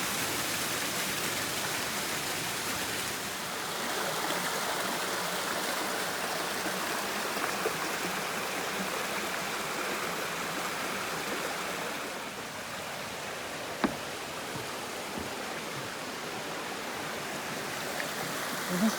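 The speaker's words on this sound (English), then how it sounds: "The water looks nice and shallow right here too, and calm." Shallow, calm stream water runs along the Blue Blaze Trail on Mount Tammany in New Jersey, a steady hiss and wash that carries on for the whole stretch with no voices.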